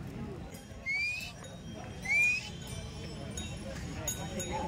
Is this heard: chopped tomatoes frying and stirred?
no